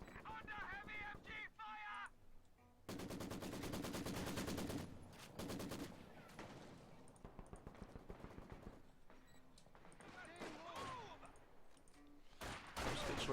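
Bursts of MG-34 machine gun fire in a World War II video game match, rapid volleys interspersed with other gunshots and game effects, with a voice talking over much of the action.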